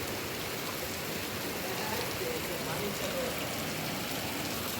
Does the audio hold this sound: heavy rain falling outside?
yes